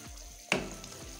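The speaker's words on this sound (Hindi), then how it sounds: "देखिए मसाला अच्छे से भुन चुका है" Masala for a Pakistani fish curry sizzles and fries in a pan, with a brief scrape of a spoon stirring and mashing it; steady close frying throughout, no talking.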